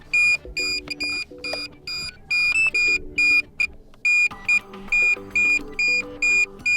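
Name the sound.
DJI Air 2S remote controller beeping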